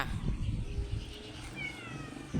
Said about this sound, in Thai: ดูแมวบ้านนี้นะคะ กลัวหมาที่ไหน กระโดดเข้าใส่เลยจ้า